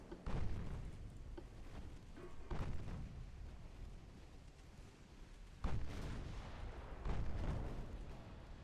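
Heavy naval guns fire in the warship game Ultimate Admiral Dreadnought, a German 1920 battleship with 19.9-inch guns, giving several deep booming salvos that roll and rumble, loud and close, with no talk.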